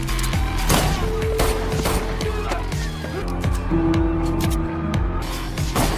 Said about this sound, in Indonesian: John menembak semua penjaga Losef dengan begitu mudah.